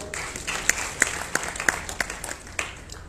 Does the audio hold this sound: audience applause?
yes